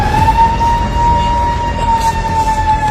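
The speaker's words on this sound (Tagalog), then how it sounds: "pumasag sa katahimikan ng alingawngaw ng sirena" Civil defense drill siren sounding loudly and steadily over a constant low background rumble, a single sustained wailing tone held throughout with no voices.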